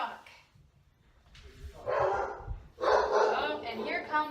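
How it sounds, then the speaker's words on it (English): Dogs barking indoors at home, a few close, loud bursts of barks and yips arriving in clusters, with a person talking around them. "Oh, and here come the dogs."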